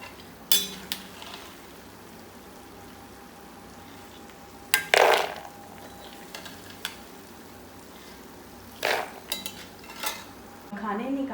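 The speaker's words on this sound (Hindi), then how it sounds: "तो चलिए, सारे मखानों को एक बाउल में ट्रांसफ़र कर लेते हैं।" Fried makhana (fox nuts) being moved into a bowl, with sharp clinks of a utensil against cookware at irregular intervals over a faint background sizzle.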